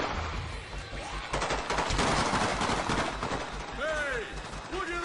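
Rapid gunfire in the zombie action video game Dead Rising 2, dense bursts of shots loud in the mix alongside game voices and a brief whistling effect near the end.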